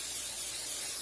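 Cooking spray hisses briefly and steadily onto a double waffle maker, a short continuous spray up close.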